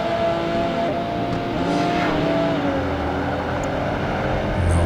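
A Porsche race car engine in Project Gotham Racing 2 holds a steady, loud, close drone whose pitch glides up and down through the gears, without voices.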